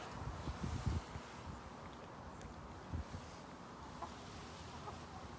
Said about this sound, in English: this hen is drinking my beer